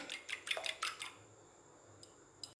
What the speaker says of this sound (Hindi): ये 2 अंडे मैंने ले लिए हैं और इनको अच्छी तरह से आपने बीट कर लेना है